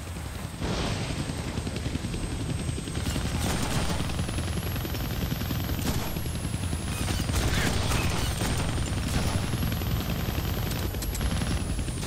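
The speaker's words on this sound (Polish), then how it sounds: "I can't kill that chopper with my guns." Helicopter in the Deadpool video game, a steady loud rotor and engine drone with bursts of gunfire and mechanical noise throughout, no talk.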